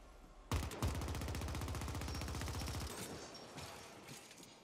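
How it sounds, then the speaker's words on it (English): A rapid burst of automatic gunfire in the video game The Ascent, loud and close, rattling steadily for about two seconds after an opening blast, then trailing into rumbling background noise. "you see there's loads of explosions"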